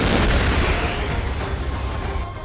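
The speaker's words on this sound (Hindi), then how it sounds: "इस दौरान दक्षिण कोरिया की सेना ने तोप से गोले दागकर अपने इरादे जता दिए।" South Korean army artillery fires shells during a military drill, a loud deep boom with a long rumbling roll that slowly fades over a couple of seconds.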